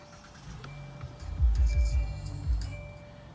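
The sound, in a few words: 2018 Hyundai Elantra GT car engine starting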